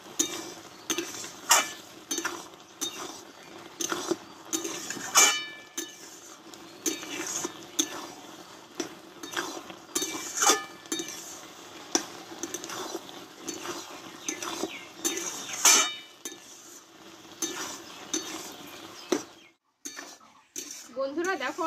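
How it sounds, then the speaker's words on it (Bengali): Tomatoes simmering down in a pan are stirred repeatedly, producing soft scraping and clinking of a utensil against metal in irregular bursts, with someone talking throughout in Bengali. "আর বারে বারে কিন্তু এইভাবে নাড়িয়ে দিতে হবে"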